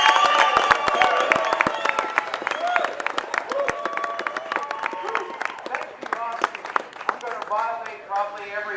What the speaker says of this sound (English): So show him a great Texas round of applause, ladies and gentlemen